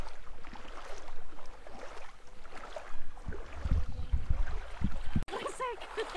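Water swishes and splashes as people wade into a clear, cold river in Papua, with steady flowing-water noise and chatter from people nearby.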